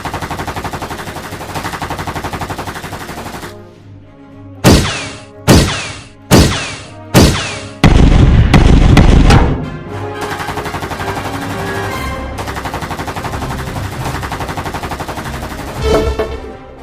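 Gunfire in an animated episode: a steady roar of scene noise drops away, then four sharp separate gunshots ring out about a second apart before a dense, loud burst of rapid fire, after which the busy background returns.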